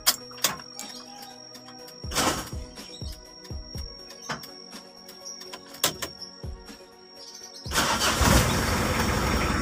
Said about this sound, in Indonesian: Oke, mobil sudah kita hidupkan.